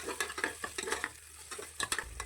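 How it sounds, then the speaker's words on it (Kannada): Chopped onions being fried and stirred in oil inside a pressure cooker, with a soft sizzle under repeated scraping and clinking stir strokes close by. "ಈರುಳ್ಳಿ ಚೆನ್ನಾಗಿ ಫ್ರೈ ಆಗಬೇಕು"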